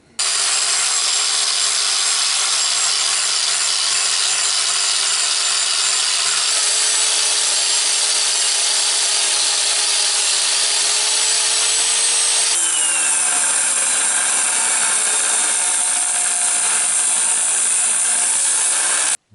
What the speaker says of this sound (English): let's take the wire brush machine and make some brown dust and cut the piece in 2